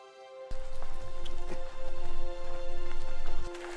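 Light rain patters on a hard surface outdoors at night in uneven bursts of irregular taps over a steady hum, close by and fairly loud.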